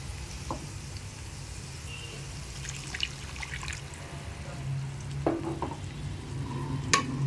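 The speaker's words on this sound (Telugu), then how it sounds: "బాగా వాటర్లో కలిపి ఒక గ్లాస్ వాటర్ పోసి ఉడికించుకోండి" Vegetable pasta cooks in water in a pan, a steady close sizzle and bubbling with occasional stirring scrapes and small clinks, continuous and moderately loud.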